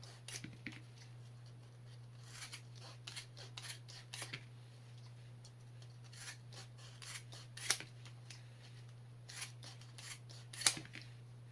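Raptor trauma shears snip through material in a series of crisp, close cuts, sharp clipping bursts spaced irregularly over a constant low electrical hum, with soft rubbing between snips.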